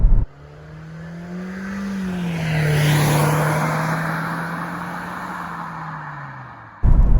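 A 2021 Nissan Kicks SR engine drones loud and coarse from inside the cabin while driving, a steady low hum that swells slightly mid-way before fading, with no talk over it.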